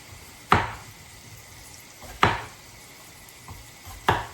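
Knife slicing the edges off a pepper on a board, three sharp separate cuts spaced about two seconds apart, close and clear with no talk.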